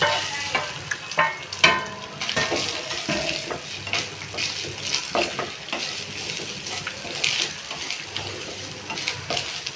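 Coconut, fennel, cumin, pepper, coriander, dried chillies and cinnamon dry roasting in a pan for tomato bath, with a spoon stirring and scraping through a light sizzle, steady and close with no talking.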